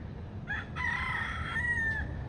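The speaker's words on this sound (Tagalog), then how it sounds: "Yung tilaok niya." A native rooster in Hawaii crows once, a long harmonic cock-a-doodle-doo rising and holding before breaking off, fairly close over a low steady background rumble.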